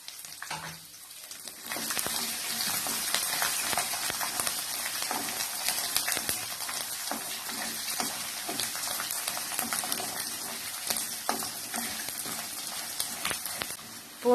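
About 50 grams of finely chopped garlic sautés in a pan, giving a steady close crackling sizzle with scattered pops and spatters throughout.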